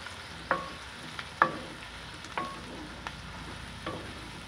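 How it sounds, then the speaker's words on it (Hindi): Green chillies drop into lightly fried onions for bhindi masala and get mixed, a quiet background sizzle punctuated by several distinct spatula clinks and scrapes against the pan. "अब इसमें हम हरी मिर्च डालेंगे और इसको फिर मिक्स कर लेंगे।"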